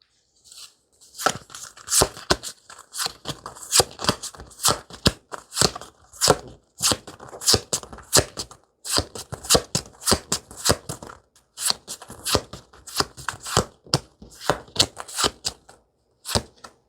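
Tarot cards being shuffled by hand, close and crisp, with rapid riffling bursts and short pauses repeating steadily, no talking.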